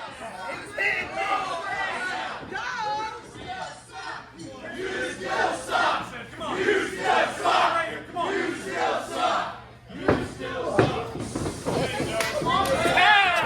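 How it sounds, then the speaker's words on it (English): Wrestling crowd at a Monday Nightmares tag-team match cheering and shouting loudly and continuously, with scattered thuds from the ring and a commentator's voice talking over the noise. "all of these cheers from the crowd are just going to get the Warden more fired up"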